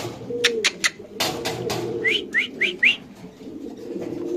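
Red Lahori pigeons at a bird sale call with a few short rising whistling coos, close by, mixed with scattered clicks and handling noises.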